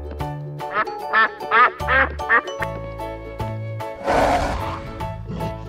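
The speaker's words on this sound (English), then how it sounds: "Duck." A cartoon duck quacks in a fast run of four or five loud, nasal quacks over bouncy cartoon music, followed by a noisy burst.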